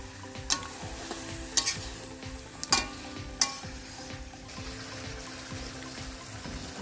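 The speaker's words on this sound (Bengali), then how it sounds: "মাংস দিয়ে মশলার সঙ্গে একসঙ্গে ভালো করে মিশিয়ে নিই" Duck meat stirred with spices in a frying pan: a steady sizzle under the stirring, with several sharp spoon knocks against the pan, close but fairly quiet.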